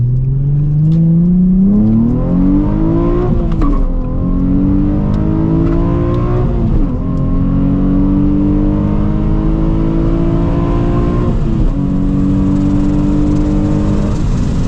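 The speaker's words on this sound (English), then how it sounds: "it might even be one of the best sounding exhausts for the 350Z." A Nissan 350Z with a Megan Racing aftermarket exhaust revs up through several gears, each pitch climb ending in a shift, loud and close for a sustained run with no talking.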